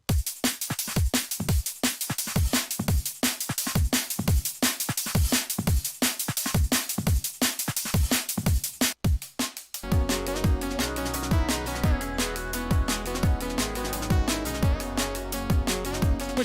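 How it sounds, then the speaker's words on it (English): An imported drum kit plays a pre-programmed pattern in music production software, first as a fast run of sharp, evenly spaced hits, then as a fuller looping beat with heavy kicks and layered tones. "we're importing an entire drum kit basically, with a pre-programmed pattern"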